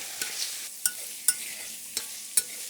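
Shrimp sizzles in a hot pan with a soft, steady hiss. About five crisp scraping clicks mark each toss and stir, close up and evenly spaced, with no talking.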